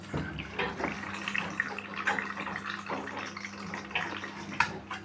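A Far washing machine on a quick cycle filling with water, a steady hissing, splashing rush that continues close and unbroken for several seconds.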